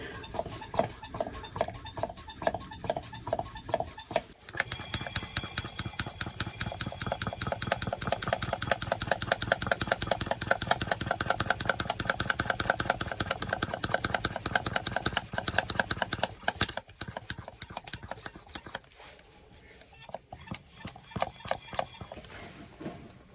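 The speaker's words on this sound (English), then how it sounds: "That seems to be making an empty noise down in the sump of the engine" A Yanmar 2GM20C marine diesel engine on a sailboat clatters in a rapid, even knocking rhythm, fairly close, with a hollow rattling tone from the sump that drops off briefly near the end.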